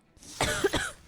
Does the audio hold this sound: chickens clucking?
no